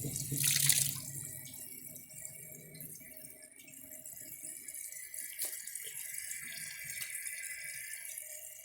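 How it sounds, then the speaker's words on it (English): Water rushes into the bowl of a 1974 American Standard Cadet toilet, starting with a loud splash and settling into a steady, quieter trickle and hiss as it refills. "I'm going to let some water into the bowl."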